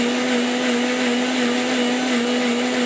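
A blender grinding watermelon for juice, running loud and steady with a constant motor whine and a dense whirring roar, no talk.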